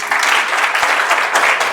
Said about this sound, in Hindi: ताली जब यहां से चलती है तो कुछ और ही आवाज है।